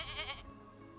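A white billy goat gives one short, close bleat that breaks off after about half a second, leaving a quiet background.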